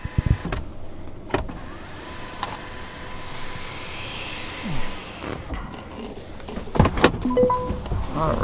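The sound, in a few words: Mercedes-Benz EQS power sunshade motor moving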